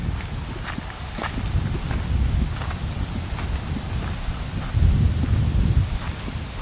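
Wind gusting steadily across a small coral motu in the Tuamotu atoll of Rangiroa, a constant low rushing roar with stronger gusts near the end and faint rustling on top, no talk.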